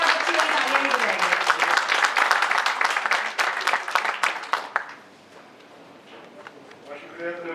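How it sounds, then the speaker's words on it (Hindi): Audience applause at a stage event in Hindi-Urdu, steady dense clapping for about five seconds before thinning out as the hall quiets. "बाकी का सारा टाइम आपने तालियां बजा के बताना है"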